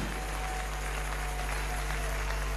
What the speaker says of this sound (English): Come on, clap your hands like you're going beyond.